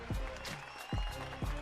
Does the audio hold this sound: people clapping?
yes